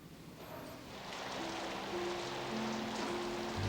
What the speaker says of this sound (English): The rain sounds so soft.